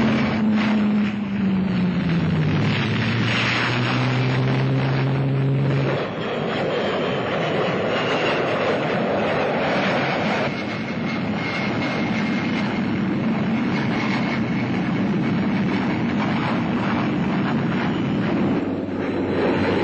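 A de Havilland Vampire jet fighter roars loudly and steadily for about twenty seconds, with a falling whine early on and heavy wind buffeting over the microphone throughout, no voices.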